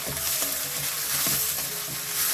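Vegetables fry in oil in a pan for a breakfast dish made with roasted gram, giving a dense, steady sizzle close by with a few soft scraping stirs and no voices.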